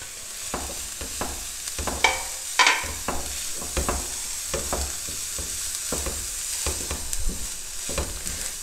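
Chicken is cooked in a pan while a spoon stirs it, with repeated scraping strokes in a loose rhythm over a continuous bright sizzle. The sound is close and moderately loud, with no voices.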